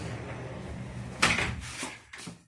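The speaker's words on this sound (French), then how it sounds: "Donc je vais fermer la porte coulissante." A sliding door in a self-built bioclimatic house is pulled shut, giving a rolling slide followed by a sharp knock as it meets the frame, then a smaller rattling bump, all close and fairly quiet.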